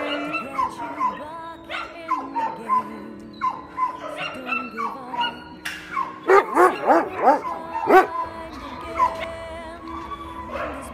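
A sick shelter dog with distemper whimpers and yips in a run of short cries, then lets out a louder burst of barks and whines close by, with a faint voice under it.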